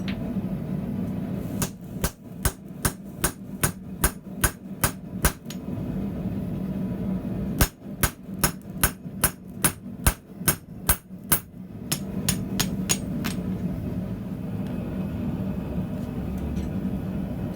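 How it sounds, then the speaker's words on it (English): A blacksmith hand-hammers a slitter through hot steel, landing two rapid runs of about ten sharp, ringing metallic blows each, close and loud, with a brief pause between and a low workshop hum underneath. "even with the proper tools, slicing through and forming an eye is not an easy job by hand hammering"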